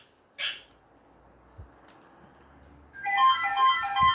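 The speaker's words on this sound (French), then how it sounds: "le téléphone qui sonne" A phone ringtone starts near the end, a bright repeating melodic trill after a mostly quiet stretch with a few small knocks, fairly close and clear.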